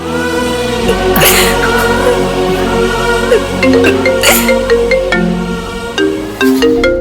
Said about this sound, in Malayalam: ഈ ഫോൺ ഞാനൊന്ന് അറ്റൻഡ് ചെയ്തോട്ടെ